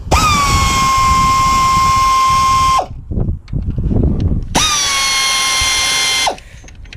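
A cordless power tool whines up to a steady high pitch for about three seconds, stops, then spins again for roughly two seconds while loosening 8mm water pump bolts on a 2004 Chevrolet Impala 3.4L, close up and loud.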